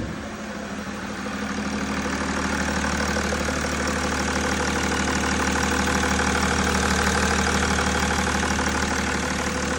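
A BMW E60 3.0 L diesel engine runs at a steady idle, close and loud, with a rhythmic diesel clatter and low drone that swells slightly in the first two seconds, then holds evenly with no talk.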